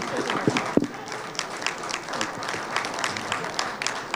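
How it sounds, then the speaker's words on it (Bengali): An audience at a televised event applauds with steady, dense clapping, moderately loud and close, with a couple of sharper claps standing out near the start. "আপনাদের সবাইকে উপস্থিত একটা অনেক বড় হাততালি দিয়ে জিল্লুরকে আমরা একটা ছোট্ট ক্রেজ দিতে চাই"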